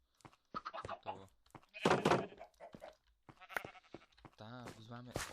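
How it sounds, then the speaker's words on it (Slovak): Sheep bleating in the Minecraft video game: a short wavering bleat rings out near the end after a stretch of soft thunks and a person talking. "Tak, už máme ovce"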